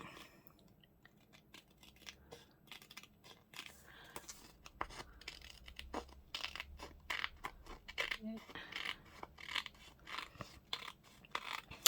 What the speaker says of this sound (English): I'm going to do it with the smaller scissors in it because I like doing that way.